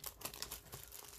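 Packs in a box of 2022 Topps X Steve Aoki baseball cards are ripped open, with quiet crinkling and tearing in quick bursts of close, faint rustle.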